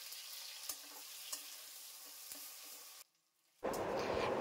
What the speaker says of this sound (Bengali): সেই তেলের মধ্যেই তেজপাতা আর পেঁয়াজ ফোড়ন দেব